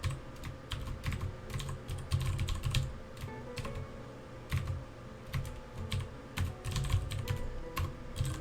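C code being typed on a computer keyboard, a close, busy run of key clicks in irregular bursts with short pauses and the occasional heavier keystroke, no voice.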